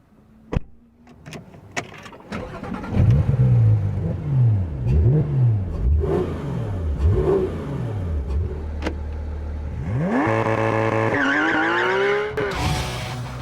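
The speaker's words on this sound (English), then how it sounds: "takes the GT3 out onto the racetrack, where it's truly in its element" A Porsche GT3 RS race car of some 500 horsepower on a racetrack, engine revving repeatedly up and down in rising and falling sweeps, then climbing through gears near the end, loud and close with a few sharp knocks early on.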